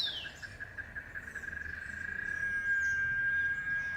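Brazilian cicada calling in Florianopolis, a steady high, thin electronic-like whine that holds on through the clip over a soft outdoor ambience, rising slightly in loudness toward the end.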